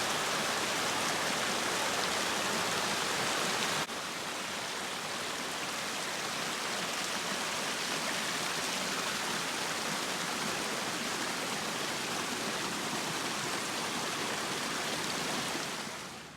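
A mountain stream rushes steadily over rocks, a dense continuous hiss of flowing water that stays loud and even throughout, with no voices.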